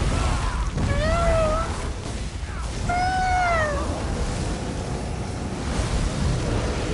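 A person meows at a pet cat in a rural Alabama home, two drawn-out, rising-then-falling meow calls spaced about two seconds apart over a constant rushing background roar; the voice imitates a cat.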